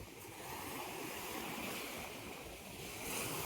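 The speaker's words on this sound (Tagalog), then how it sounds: "Kasi malakas na yung alon." Strong ocean waves wash against moored fishing boats on a windy coast, a constant hissing surf with wind buffeting the microphone, moderately faint and without talk.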